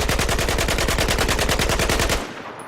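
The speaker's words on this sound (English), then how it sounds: "show what shooting is like without any recoil control" A QBZ-95B rifle fires on full auto in a video game, a loud, even burst of about twenty rapid shots lasting two seconds, then stops into a short echoing tail.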